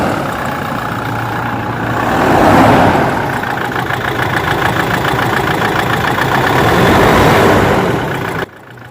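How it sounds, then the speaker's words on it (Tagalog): 2020 Toyota Innova engine idling roughly just after starting, with a steady close knocking rumble that swells slightly, then cuts off abruptly near the end. "Ayan o, kurug-kurug pa yung engine."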